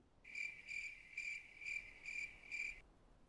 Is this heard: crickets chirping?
yes